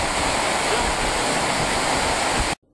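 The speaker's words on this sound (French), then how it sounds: "Une petite cascade." A small waterfall in Iceland roars as a steady, dense rush of falling water, loud and close, running evenly for over two seconds before cutting off abruptly.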